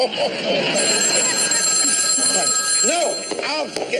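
An old-fashioned telephone bell rings steadily and loudly in a television variety-show setting, a continuous metallic trill with voices talking over it near the end.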